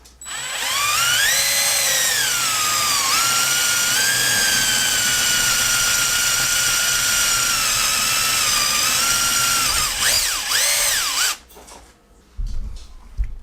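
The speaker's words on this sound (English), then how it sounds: "all I gotta do is drill a 1/4 inch hole in the desk" Power drill boring a 1/4 inch hole through a desk, a loud close whine that holds steady for about ten seconds, pitch dipping and wavering as it bites, then stopping with a few handling knocks.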